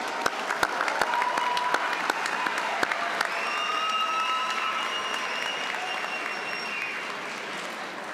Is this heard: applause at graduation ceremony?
yes